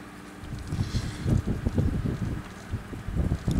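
Outdoor wind gusts against the microphone during hand stitching, a low rumbling buffet that swells and fades in uneven puffs, moderately loud, with no speech.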